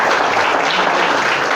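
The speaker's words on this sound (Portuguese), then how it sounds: "Quem crê nisso pode aplaudir, glorificar" A church congregation applauds at a worship service, a dense, steady wash of clapping that holds at full strength from start to finish with no voices over it.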